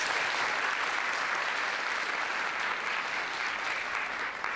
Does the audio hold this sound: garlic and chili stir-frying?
no